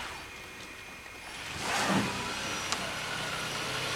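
A car pulling in, its engine swelling to a brief peak as it approaches and then settling into a steady hum under broad background noise.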